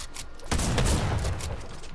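A pump shotgun fires in the Fortnite video game: one loud, sudden blast that decays over a second or so.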